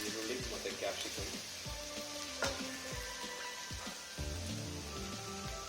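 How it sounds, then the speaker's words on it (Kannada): Onion and capsicum half-fry in a pan for cauliflower Gobi Manchurian, giving a steady, soft sizzle with scattered stirring knocks and clinks from a spoon throughout, fairly quiet and close. "ಇದು ಸ್ವಲ್ಪ ಹಾಫ್ ಫ್ರೈ ಆದರೆ ಸಾಕು, ಜಾಸ್ತಿ ಫ್ರೈ ಆಗೋದು ಬೇಡ. ಈರುಳ್ಳಿ ಮತ್ತು ಕ್ಯಾಪ್ಸಿಕಮ್ಮು"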